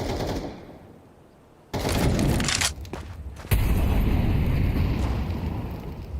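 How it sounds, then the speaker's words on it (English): Grenade blasts and rapid gunfire in Counter-Strike during an ESL Pro League match: a quieter lull, then a sudden loud burst of explosions and shots that stays dense and heavy to the end. "As they whittle him down with nade after nade after nade"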